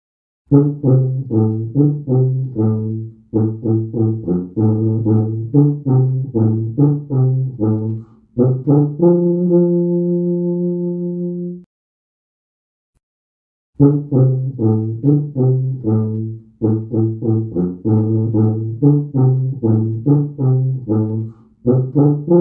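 A tuba plays low, brassy notes in short detached bursts and phrases, then holds one long sustained tone that breaks off into a brief silence before the rapid low notes return; solo and close, with no talking.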